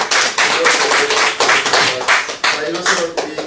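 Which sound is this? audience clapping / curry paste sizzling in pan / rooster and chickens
audience clapping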